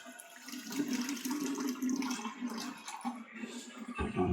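Water runs steadily from a hot tap in a home after a gas boiler conversion, a continuous close splashing rush that shifts briefly near the end.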